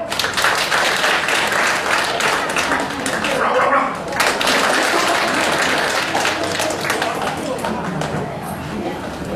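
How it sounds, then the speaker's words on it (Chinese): Audience applause at a storytelling and comedy show in a Beijing teahouse theatre, greeting a pingshu storyteller as he takes the stage. The clapping is broad, steady and close, with a brief dip partway through, then carries on under light crowd noise. "掌声"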